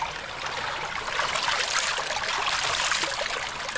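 Water stream flowing steadily through a village near Port Antonio in Portland parish, Jamaica, a continuous close rushing and trickling wash that swells slightly midway, with no voices.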